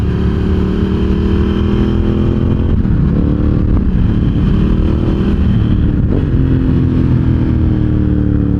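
A Ducati Hypermotard 1100 EVO SP motorcycle roars steadily through corners, loud and close with wind rush, the engine note dipping and rising as the throttle is rolled off and back on.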